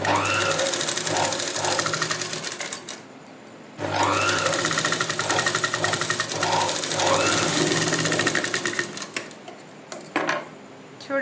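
A sewing machine stitches lining onto boutique-style piping in two close, loud bursts of rapid chattering needle strokes, separated by a short pause and tapering off near the end.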